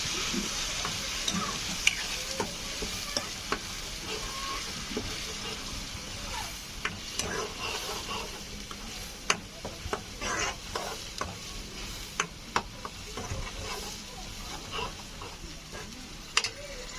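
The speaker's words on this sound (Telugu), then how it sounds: "ముందుగా రెడీ చేసి పెట్టుకున్న ఉల్లిపాయ పేస్ట్ వేసి దీన్ని ఇలా మిక్స్ చేసుకోవాలి" Onion paste being stirred and mixed in a hot pan for gutti vankaya curry, with a soft continuous sizzle and repeated light scraping ticks of a spoon against the pan, close and steady throughout.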